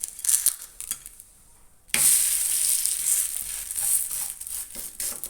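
A flipped paratha sizzling in oil in a pan, quiet at first and then a sudden loud, steady hiss of frying that carries on to the end.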